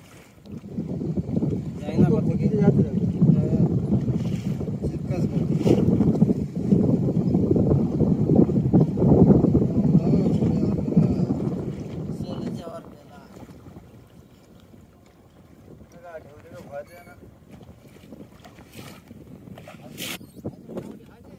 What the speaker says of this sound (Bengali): একটা ট্রলার গেছিল সমুদ্রে মাছ ধরতে, ইলিশ ধরতে গেছে। তো ফিরে আসছে ও।